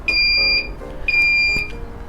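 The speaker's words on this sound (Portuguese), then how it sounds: "quando ele termina, ele faz aquele bip e ele terminou" A Carbobit Nano CO2 meter signals that it has finished with two clear, high electronic beeps, each about half a second long with a short gap between them, heard close and alone.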